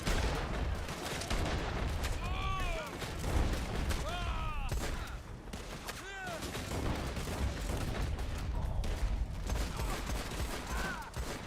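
Shotgun gunfire in the video game Red Dead Online, several sharp blasts spaced a second or two apart with ringing, metallic tails and mechanical clicks, over steady background noise.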